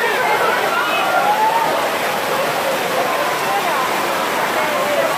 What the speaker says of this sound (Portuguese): Entrando na igreja, tá chovendo pra caramba, tá caindo o mundo aqui